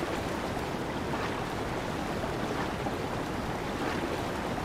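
Rushing river water as a character crosses a river in Zelda: Breath of the Wild, a steady, dense wash of flowing water that fills the whole moment without pause, loud and close with no voices over it.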